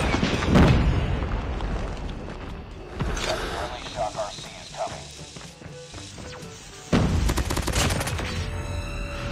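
FR-556 rifle in a shooter video game, bursts of rapid gunfire and booming impacts in clusters, loud and close, with an excited voice talking over the action.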